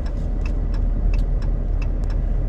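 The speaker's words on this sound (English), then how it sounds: "All this traffic." Cars move through the streets of Bar Harbor, Maine, heard from inside a vehicle as a constant low engine and road rumble, with a regular ticking, likely a turn signal, clicking over it.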